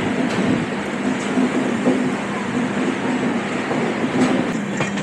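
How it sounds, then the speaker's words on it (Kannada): Train travelling overnight from Bengaluru Majestic toward Mantralayam, heard from on board: a loud, steady rumble and rattle of the carriage with faint rhythmic clicks of wheels on rails, constant throughout and no speech. "ಆಪೋಸಿಟ್ಟು ಇನ್ನೊಂದು ಟ್ರೈನ್ ಮೂವ್ ಆಗ್ತಾ ಇದೆ ಆ ಕಡೆ"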